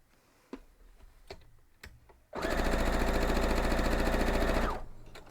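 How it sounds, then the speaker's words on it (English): A sewing machine stitches the stem piece of a quilt block: a few soft clicks, then a steady, close, fast-running burst of stitching for about two seconds before it stops. "now we're going to sew the other piece of the stem"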